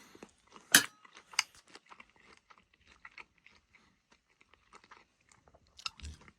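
Close, sparse chewing of sausage coated in salt, with a few crisp bites and wet mouth clicks scattered over a quiet background and a faint clink of a utensil.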